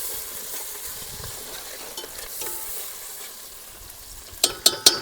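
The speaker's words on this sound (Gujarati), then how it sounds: "હા વઘાર પકડાયો હો ભાઈ" Fish curry being cooked in a pan, onions and tempering frying with a soft continuous sizzle and stirring scrapes, then a few sharp louder crackles and spatters near the end.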